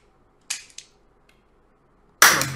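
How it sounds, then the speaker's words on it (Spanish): Toy pistol shots in a pistol duel: two quick sharp cracks close together, then a much louder, longer blast a moment later, each standing alone against near silence. "¡Dispara, Pumus!"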